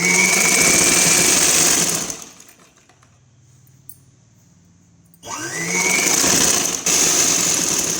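Sewing machine stitching a long umbrella frock, a loud steady whirring run that stops for about three seconds of near silence, then starts again and continues close up.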